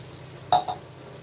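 Bowl-rinsing water is poured into a pan over low heat, giving a quick close splash and hiss followed by a second smaller burst against a faint background hum.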